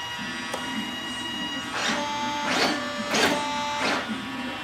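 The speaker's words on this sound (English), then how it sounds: "even though they're noisy, the servos aren't binding" Several short whirring bursts, about five, from digital servos moving the control surfaces of a GJC Avanti XXL model jet, in quick repeated strokes over a steady background hum, fairly close and moderately loud.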